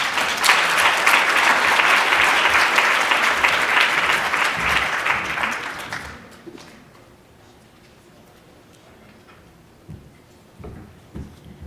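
Loud audience applause at an awards luncheon during a health leadership summit, a dense burst of clapping that fades out after about six seconds, leaving a quiet room with a few scattered claps.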